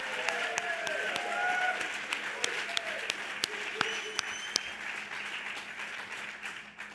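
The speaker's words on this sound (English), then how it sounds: "Let's give them a round of applause." An audience at a Veterans Day gathering held in a church applauds, a steady wash of clapping with a few sharp individual claps standing out before it fades.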